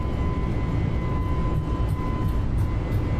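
An A32NX airliner in Microsoft Flight Simulator 2020 makes its takeoff roll at TOGA thrust on the runway at Madrid, heard as a loud, steady engine roar with a faint high whine, without talk.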